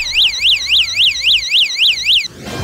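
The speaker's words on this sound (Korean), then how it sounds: "주위의 위험 상황을 알려 시선을 집중하고 구조 요청을 할 수 있는 강력한 호신용 경보 기능입니다" A MAGMA personal self-defense alarm wails loudly and alone in a fast, repeating up-and-down electronic siren sweep, about eight cycles, then cuts off abruptly.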